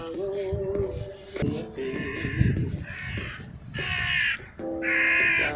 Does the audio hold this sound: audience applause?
no